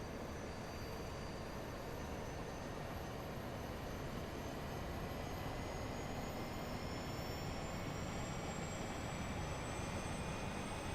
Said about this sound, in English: the APU. You can hear it right here.